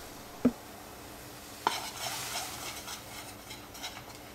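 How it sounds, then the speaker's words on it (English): Two sharp clinks of a utensil against a pan, then soft stirring and scraping as rice flour is worked into water in the pan over low heat, quiet and close. "I am adding it and also simultaneously mixing it around."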